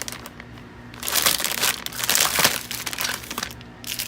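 Plastic packaging around a drone being opened, crinkling and crumpling in close, loud bursts that swell and fade with no talk.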